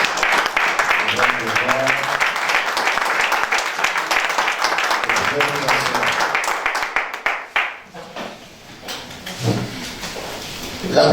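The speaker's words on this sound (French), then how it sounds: "Est-ce qu'on va acclamer plus fort?" Loud, vigorous clapping and cheering from a church congregation during a revival service. Applause swells over voices, then tapers into scattered claps and talk near the end.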